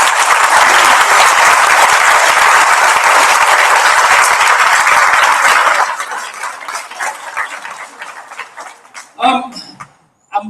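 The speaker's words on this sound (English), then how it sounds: "a big round of applause" Loud, dense applause from a school prizegiving audience for the secondary management team, sustained for several seconds then thinning to scattered claps, a few rattles and clattering sounds near the end.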